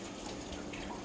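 Tap water runs steadily into a kitchen sink during hand washing, a continuous broadband rush close by with no talk over it.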